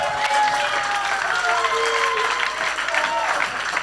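Congregation at an Easter Sunday evening church service clapping steadily and loudly throughout, with a preacher's sustained voice and singing-like tones riding over the applause.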